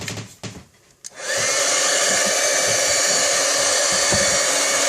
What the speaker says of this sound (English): Take my heat tool.